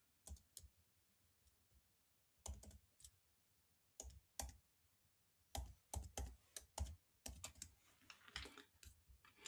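Someone types a website address on a computer keyboard, producing quiet, close clusters of rapid key clicks separated by short pauses, with no talking.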